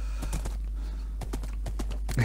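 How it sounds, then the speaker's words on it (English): Hoofbeats of a horse being ridden in a blocky Minecraft-style game world, a short run of clip-clop steps at an uneven pace, moderately close, with faint background game ambience. "I'm riding your horse."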